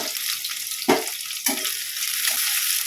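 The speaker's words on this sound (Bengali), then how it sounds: "চলো বেরেস্তাটা ভেজে নিই।" Onions sizzle steadily in hot oil for beresta, crisp fried onions, with a couple of brief clanks from stirring over the constant close frying hiss.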